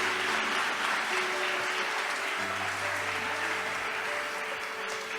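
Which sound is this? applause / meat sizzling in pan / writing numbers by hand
applause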